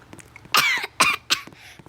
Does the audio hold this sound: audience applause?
no